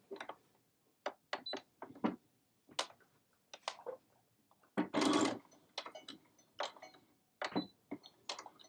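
A sewing machine stitches a half-inch seam on a stocking in short separate bursts of whirring with gaps between. One longer, louder run falls near the middle.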